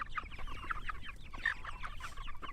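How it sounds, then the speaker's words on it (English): Cornish Cross meat chickens cluck and chirp in a steady, busy chorus close by, with soft scratching and movement underneath. "we got our Cornish crosses here. And these are our meat chickens."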